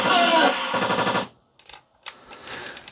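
Video game gunfire triggered with a homemade, rough-and-ready light gun: a loud, rapid run of shots for over a second, a pause, then a few sparser, quieter bursts.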